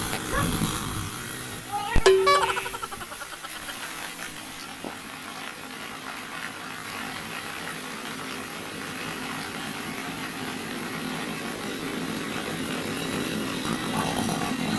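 A gasoline-powered cutter on a remote provincial farm runs steadily and continuously at moderate loudness, with a sharp knock near the start and people talking faintly in the background.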